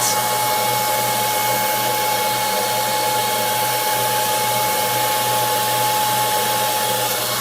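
A laser engraver's cooling fan drones steadily and loudly, a continuous whir with a constant hum and high hiss, unchanging throughout.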